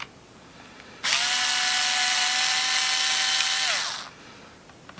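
A Bosch cordless electric screwdriver unscrews a small laptop screw, a steady high whirring motor hum running for about three seconds at close range, then winding down and stopping.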